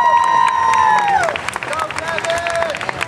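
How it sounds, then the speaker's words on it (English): A crowd applauds and cheers for two volunteers at a live comedy and stunt show, busy clapping and shouts layered with whistling tones and some voices, fairly loud and lively throughout. "Let's have a huge round of applause for both of the volunteers."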